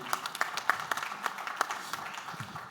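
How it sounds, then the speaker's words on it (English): Scattered applause from a small audience at a sustainable transportation panel event, thin and moderately distant, with individual claps standing out rather than a dense roar, fading after a few seconds. "please join me in a round of applause"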